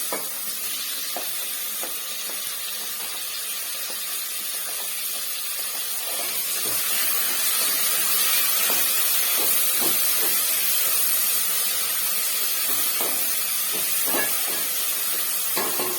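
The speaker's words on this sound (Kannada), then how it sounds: "ಈರುಳ್ಳಿ ಫ್ರೈ ಆಗಿದೆ ಟೊಮೊಟೊ ಹಾಕೋತಾ ಇದ್ದೀನಿ" Tomato going into onions already fried in a pan while vegetable pulao is being cooked, giving a steady, close hissing sizzle with scattered stirring clicks and no voices.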